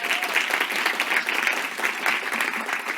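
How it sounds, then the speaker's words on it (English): Steady audience applause from a conference crowd at a business event, dense and even clapping sustained throughout at close range, with no talking over it. "Please come a round of applause."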